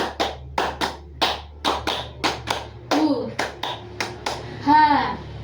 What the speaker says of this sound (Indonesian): Ice breakingnya itu tepuk 1, 2, 3.